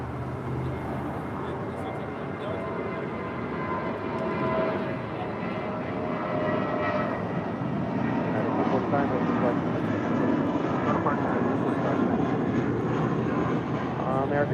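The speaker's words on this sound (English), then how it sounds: "This is United Airlines 245 departing to Vancouver on an A319." United Airlines A319 departing Los Angeles International for Vancouver, a steady broad jet rumble that swells gradually louder, with a voice talking faintly beneath it.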